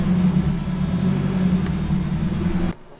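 Turbocharged K24 engine in an all-wheel-drive swapped Honda Civic running on a dyno, a loud steady engine drone that drops off abruptly near the end.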